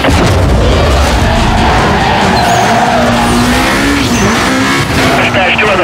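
A Lotus Elise in a racing video game roars continuously at close range, engine loud with tires squealing and skidding throughout, while police radio chatter talks over the driving.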